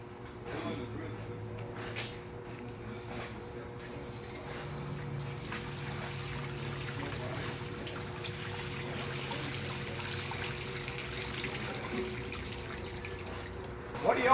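Water lifted by a solar-powered pump trickles steadily at the outlet, a soft continuous dribble under a faint steady hum, close and fairly quiet throughout.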